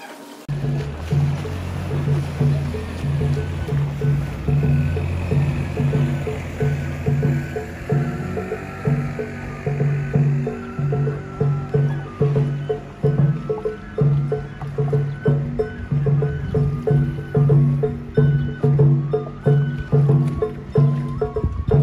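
A wooden bangka rowed with oars during a festival outing, with regular rhythmic strokes and a low steady hum beneath, near and continuous with no talk.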